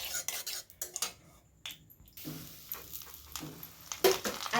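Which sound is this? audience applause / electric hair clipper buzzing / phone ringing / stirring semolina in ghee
stirring semolina in ghee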